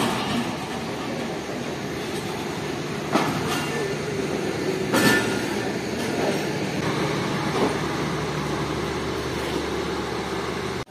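The 15 Up Karachi Express pulls into platform 3 at Rohri Junction at night, a continuous rumble of rolling railcars with clanks and wheel knocks, close and steady, no talk.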